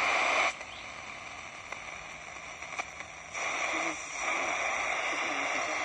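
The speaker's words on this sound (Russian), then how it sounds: "больше ничего, кроме помех" Medium-wave radio static and interference heard during a station scan near the Russian border in Finland, a steady hiss with crackles and faint tonal whines, the noise level shifting a few times.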